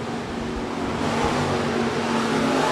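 A SportMod race car at Shelby County Speedway gives a steady, loud engine roar that swells slightly as it runs down the long back straightaway, with no talk over it.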